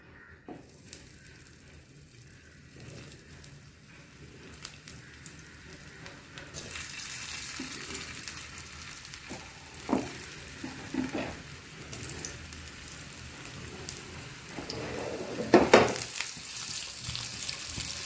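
Raw banana cutlets cooking in hot oil in a pan. Quiet at first, then a steady close sizzle rises and holds, broken by a few clinks and scrapes of handling.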